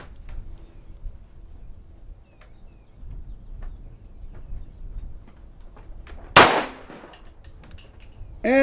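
A 300 Blackout rifle loaded with 220-grain rounds fires a single sharp, loud shot in an otherwise quiet outdoor scene, followed by a short ringing decay and a faint metallic clank.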